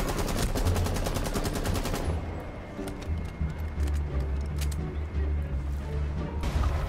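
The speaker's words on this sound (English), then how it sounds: "That's a shotgun." Shotgun fire in a video game, a rapid run of loud, close blasts for about two seconds, then scattered fainter impacts and rumbling combat noise.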